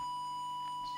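A steady 1 kHz test oscillator tone is fed into a Hoffman HF225 mobile CB radio for a deviation check, an unbroken pure note held evenly throughout under a faint background hum.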